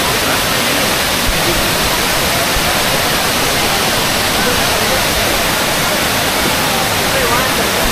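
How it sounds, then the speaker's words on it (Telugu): Tirathgarh Waterfall roars close by, a loud, dense and unbroken rush of falling water that fills the whole scene without pause. "ఇదే తీరత్గఢ్ వాటర్ ఫాల్."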